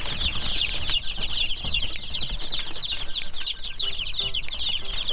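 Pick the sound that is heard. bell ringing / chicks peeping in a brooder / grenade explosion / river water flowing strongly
chicks peeping in a brooder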